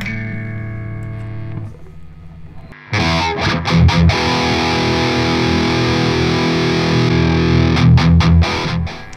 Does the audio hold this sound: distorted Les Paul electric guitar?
yes